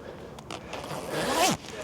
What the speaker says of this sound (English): Zips up to a full face mask.